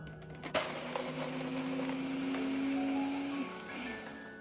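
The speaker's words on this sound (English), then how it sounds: "Now blend it." A blender whirs through a smoothie, starting with a sharp click and then settling into a steady motor hum that holds for about three seconds before winding down, fairly quiet overall.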